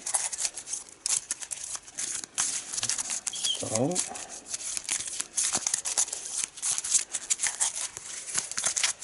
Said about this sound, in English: So I'm going to give it a shuffle.